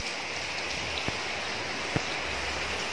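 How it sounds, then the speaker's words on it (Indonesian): Heavy rain pours in a dense, steady hiss just after a downpour near a house, with a couple of faint isolated knocks and no voices. "Ini teman-teman suasananya, barusan hujan, guys, tuh deres."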